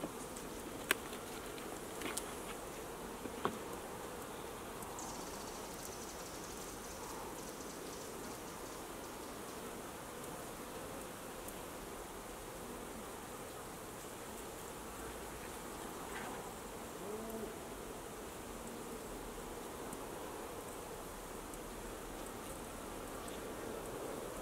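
Honeybees hum around an opened, smoked hive in a first-day beekeeping session, a steady soft buzzing drone lasting throughout with a few faint clicks early on.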